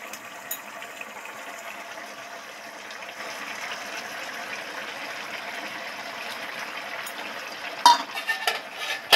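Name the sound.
stirring poppy seed paste with vegetables and spices in pan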